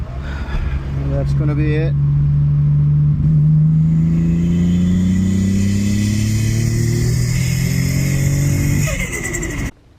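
A Toyota Supra engine pulls hard under boost toward 7,000 rpm at about 15 psi, a loud sustained roar whose pitch climbs steadily before cutting off abruptly, with someone briefly speaking near the start and end.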